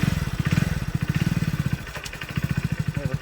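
A motorcycle engine is revved hard again and again in rapid pulsing bursts, loud and close, with a brief dip partway before the throttle surges back.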